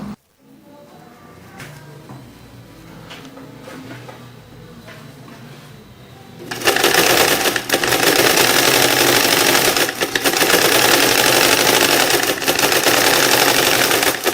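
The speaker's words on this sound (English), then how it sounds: "After adjusting the tension, we sew 2 stitches and test again." A domestic sewing machine stitches a couple of test stitches after a thread-tension adjustment, running loud and steady for the second half after a quieter stretch of faint handling noises.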